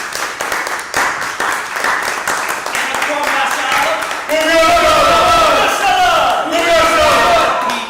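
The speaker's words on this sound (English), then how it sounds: "everybody give him a round of applause." A crowd breaks into loud cheering and applause partway through, raucous whoops and clapping swelling after a stretch of chatter and lingering at full volume to the end.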